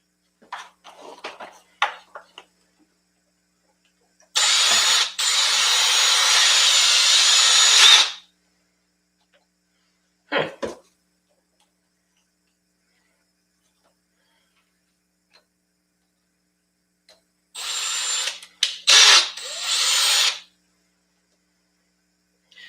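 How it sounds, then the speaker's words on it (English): Power drill driving screws back into an RC car, a Kraton 4S, in two separate bursts of several seconds each. Short clicks and handling sounds fall between the bursts, with near silence elsewhere. "Now I need to try and get the screws back in it again."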